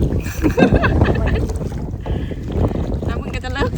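Kayak paddled fast on open water near Rayong, with steady splashing strokes and wind buffeting the microphone, under continuous chatter from people talking.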